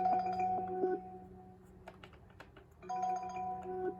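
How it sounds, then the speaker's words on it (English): A Cisco CP-7821 IP desk phone ringtone plays in two bursts of steady tonal beeps, separated by a short pause filled with faint clicks. "which plays the ringtone"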